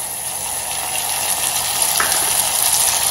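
Tomatoes dropped into softened onions frying in a pan for a gawar phali sabzi give off a steady, close hiss of sizzling oil that holds throughout, with no talking.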